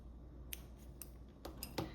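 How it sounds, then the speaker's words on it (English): Scissors snip through crochet yarn in a quiet room, giving four or five short, crisp close-up cuts in quick irregular succession over a soft background hiss. "you can cut your yarn"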